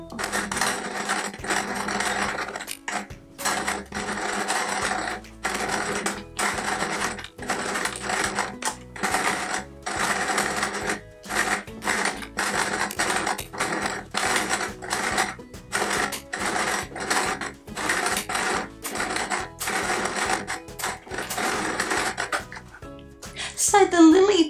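A sewing machine stitches appliqué onto a patchwork quilt in steady bursts of rapid whirring, stopping and restarting many times, close and fairly loud, ending in a short higher rattle.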